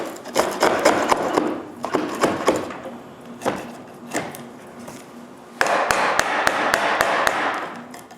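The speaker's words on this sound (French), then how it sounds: "Premièrement, avec un ciseau à bois." A wood chisel cleans out the inside of a wooden piece, with repeated sharp taps and knocks in uneven bursts, close and clear, followed by a rapid series of scraping, chipping strikes.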